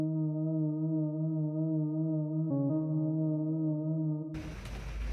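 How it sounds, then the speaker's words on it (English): The Luminous Times synth preset from Logic's Alchemy, heavily tweaked with distortion and EQ, plays a sustained tone with a brief shift partway through before cutting to a noisier, distorted burst near the end. "It's a preset from Alchemy called Luminous Times, and I did tweak the synth quite a lot."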